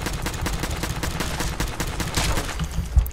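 Rapid gunfire in Fallout 4's Far Harbor, a dense run of sharp shots at an even, quick rhythm, steady and moderately loud with one heavier thump near the end.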